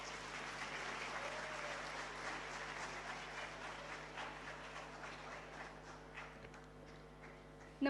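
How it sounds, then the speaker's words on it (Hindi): A seated audience at an International Literacy Day event applauds to welcome a speaker, giving a sustained, fairly distant wash of clapping that slowly thins out over several seconds. "आप सभी से निवेदन है कि तालियों से स्वागत करें अंकिता जी का"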